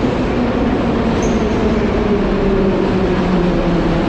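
A loud old-style metro train in Uzbekistan rumbles steadily into the station, with a continuous low roar and a faint high squeal as the carriage rolls in.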